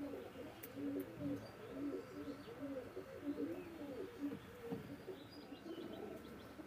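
Pair of Pakistani Teddy pigeons cooing in a loft, repeated soft rolling coos in a steady rhythm, faint and close, with a few light chirps.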